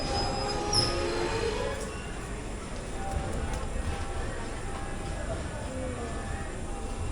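The 06576 Palakkad-to-Bengaluru summer special passenger train sits at Palakkad Junction with a low rumble and faint wheel squeals, steady and moderately distant.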